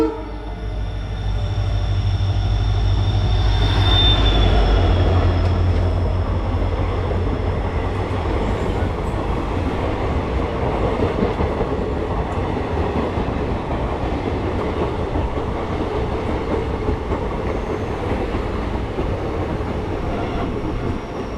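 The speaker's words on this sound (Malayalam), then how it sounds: "ഇപ്പോൾ ഒരു ട്രെയിൻ വരാനുണ്ട്" A train passes through Melattur railway station with a horn blast early on, then a steady loud rumble and rolling wheel clatter from close by that continues throughout.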